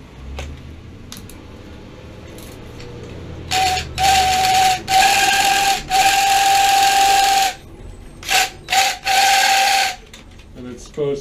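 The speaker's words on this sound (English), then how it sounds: "You put a drill on it." A power drill driving a turbo tank cleaner whines in several loud, sustained bursts, starting and stopping with short gaps, a steady high-pitched motor tone over a faint hiss.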